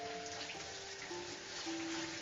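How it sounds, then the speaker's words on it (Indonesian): Shower water falls in a continuous soft hiss of spray, even and fairly quiet throughout, with a faint steady hum underneath and no voices. "consider water falling from a shower"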